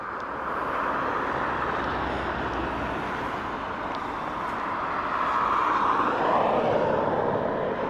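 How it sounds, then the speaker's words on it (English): An Airbus A321 airliner arriving at Dublin Airport from London Heathrow, a steady, broad engine roar held for the whole stretch at moderate distance, swelling slightly louder toward the end as it passes. "A321 next in from London Heathrow"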